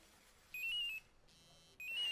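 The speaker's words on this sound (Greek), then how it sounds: "Χτυπούσε το κινητό σου." A mobile phone rings indoors in two bursts of bright electronic tone, each lasting about half a second, separated by a short pause, fairly faint against a quiet room.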